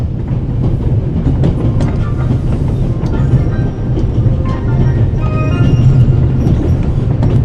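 A train rolling along in the video game The Raven Remastered gives a continuous loud low rumble with faint rhythmic clatter and occasional metallic squeaks, steady throughout.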